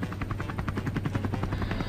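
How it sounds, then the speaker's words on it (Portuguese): A helicopter in the Roblox video game flies close by, its rotor chopping in a steady rapid pulse with a constant low drone throughout, loud and without talk. "tem um helicóptero aqui, gente. Vamos fazer a filmagem do helicóptero."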